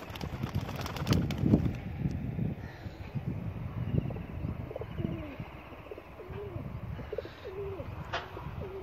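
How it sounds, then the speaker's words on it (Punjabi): Soft, low cooing calls from kept pigeons in Amritsar, repeated at irregular intervals over a steady background hum with some occasional rustling. "ਵੇਖੋ ਮੇਰੇ ਕਬੂਤਰ"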